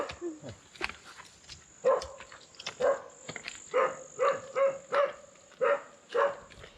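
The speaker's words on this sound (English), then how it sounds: "Some very mean dogs." Several dogs bark aggressively near a jungle trail in the Philippines, a string of sharp, evenly spaced woofs at close to moderate range, gradually falling into a steady rhythm.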